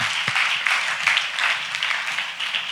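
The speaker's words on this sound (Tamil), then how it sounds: "டீச்சருக்கு நல்லா ஒரு கைதட்டு கொடுங்க பார்க்கலாம்" A church audience claps for a teacher, a steady, moderately loud wash of applause with one sharper clap standing out near the start, sustained throughout.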